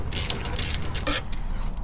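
A ratchet on a long 3/8 extension with a 12mm socket loosening front bumper bolts on a 5th-gen Toyota 4Runner, giving a quick run of close, loud clicking pawl ratchets with brief metallic creaks.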